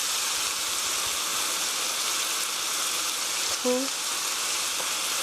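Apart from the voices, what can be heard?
soy sauce sizzling in a hot pan with mushrooms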